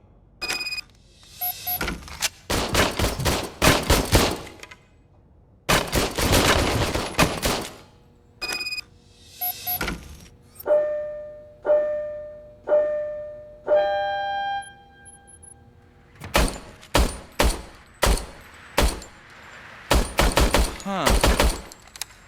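Bursts of service pistol fire from the video game RoboCop Rogue City ring out in rapid volleys: several clusters of loud, sharp shots, a run of evenly spaced single reports in the middle, then another fast string of shots.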